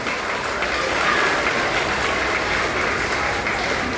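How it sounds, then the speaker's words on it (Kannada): Audience applause at a ceremony in Chikkajala village, a dense, steady wash of many hands clapping together, loud and continuous throughout with no voices over it. "ಎಲ್ಲರೂ ಜೋರಾಗಿ ಒಂದು ಚಪ್ಪಾಳೆ ಕೊಡಬೇಕು ಅಂತ ಕೇಳ್ಕೊತಾ ಇದ್ದೀನಿ"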